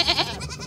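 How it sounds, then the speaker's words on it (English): A male billy goat on a small farm, one with a single horn, bleats once in a wavering, nasal cry that is close and fairly loud, with no talk over it. "my male goat, my billy goat"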